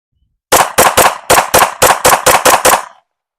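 S&W Spec Series steel-frame pistol firing 124 grain ammo, ten sharp, loud shots in a quick, fairly even rhythm, each with a short ringing tail.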